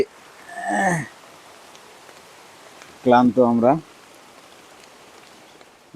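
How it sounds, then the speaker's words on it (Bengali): Rain falls on the roof of a small makeshift hut in a border area, a steady soft hiss running through the whole stretch while people speak briefly over it. "বৃষ্টির কবলে পড়ে গিয়েছি আমরা একটি ছাপড়া ঘরের মধ্যে এসে আশ্রয় নিয়েছি"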